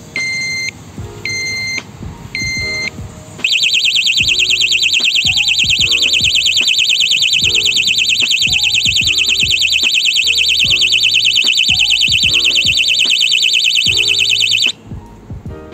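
A motorcycle disc lock alarm gives three short electronic beeps, then a loud, piercing continuous wail for about eleven seconds before stopping automatically; faint clicks and handballebar handling noises underneath.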